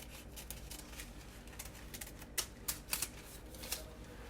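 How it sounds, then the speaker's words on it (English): Scissors cut a hole in a paper cake pan liner, a handful of crisp snips clustered toward the end over a low steady background hum, close and quiet. "So the only thing I'm gonna do is trim this and cut a hole."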